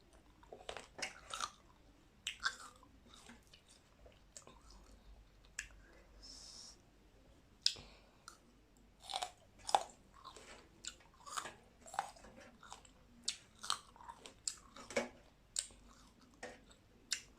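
Someone chews a final bite of food with fermented fish sauce (pla daek), wet crunchy bites and clicks in an irregular rhythm, close up and fairly quiet, with soft breaths between.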